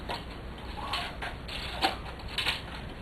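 A metal wire slides back through the comb of a knitting machine ribber, producing soft scraping and a few light metallic ticks and clicks over a few seconds, close and fairly quiet.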